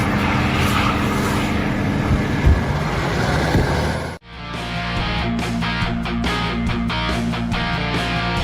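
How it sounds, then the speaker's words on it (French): A loud, roaring aircraft engine drones continuously nearby, with a brief sharp drop midway before the steady roar resumes. "L'avion a volé si près du sol que tu ne pouvais capturer la vidéo qu'en t'allongeant."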